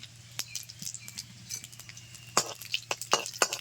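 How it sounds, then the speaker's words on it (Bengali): Dried red chillies and black cumin dropped into hot oil give faint, crackling sizzles: sparse pops and spits at first, then sharper bursts of crackle toward the end, all fairly quiet with no talk. "তেল গরম হয়ে গেছে দিয়ে দিচ্ছি দুটো শুকনো লঙ্কা চামচ কালো জিরে"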